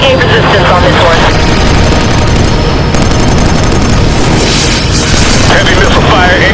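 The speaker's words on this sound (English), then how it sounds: "Heavy missile fire incoming." Heavy missile fire and rolling explosions in Killzone 3 during an airborne approach to Stahl Arms under anti-aircraft resistance, loud and sustained with booms and rapid gunfire throughout, and a voice speaking over it.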